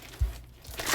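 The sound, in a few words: plastic bag of craft beads rustling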